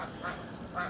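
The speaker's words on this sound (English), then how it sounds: "I've actually been letting the ducks in here to clean it up for me" Ducks quack in a backyard vegetable garden in Florida, two short bursts of nasal calls about half a second apart, fairly close over a steady outdoor background.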